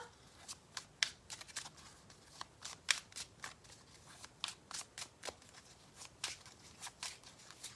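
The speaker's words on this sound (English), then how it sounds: "let's get a card for Gemma" Tarot cards shuffled by hand, a quiet run of crisp riffling bursts and flicks in an uneven rhythm, close and alone with no talking.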